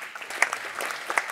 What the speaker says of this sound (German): Das ist die Stelle für Applaus.